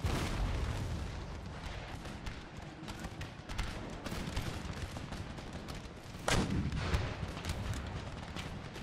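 Dense musket volleys and cannon fire rattle through an Empire Total War battle, a continuous crackle of shots with heavier booms, including a sharp loud blast near the end.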